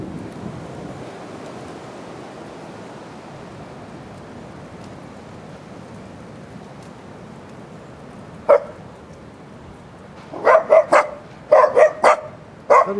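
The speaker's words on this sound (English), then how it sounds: "What are you barking at?" Steady wind or surf noise fills the background, then a single bark is followed by a burst of several sharp barks from more than one dog.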